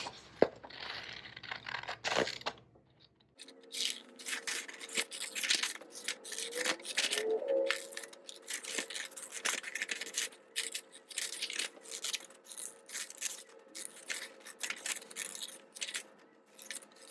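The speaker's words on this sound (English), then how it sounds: "So I got my scissors, and I'm gonna cut all the way around on like the black line." Scissors cut paper around printed lines on a Minecraft Creeper cube papercraft, giving close, continuous snipping and rustling crinkles of the sheet, preceded by a brief louder handling noise.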